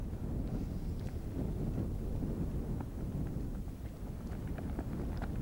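Wind buffeting outdoors on a golf course, a steady low rumbling roar across the microphone throughout, with no other sounds standing out.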